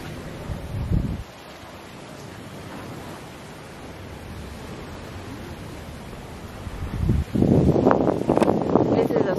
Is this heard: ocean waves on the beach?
yes